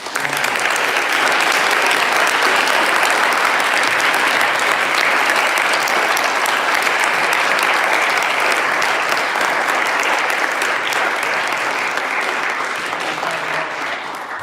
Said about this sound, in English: Can we just give a round of applause for our great